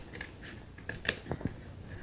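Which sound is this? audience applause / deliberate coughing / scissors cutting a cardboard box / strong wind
scissors cutting a cardboard box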